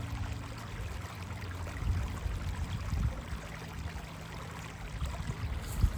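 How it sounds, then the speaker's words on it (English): Water trickles and streams steadily down a rock outdoors, a continuous low burbling wash with small splashes, fairly close and with no talking. "the frequency that water gives off when it's trickling down a rock"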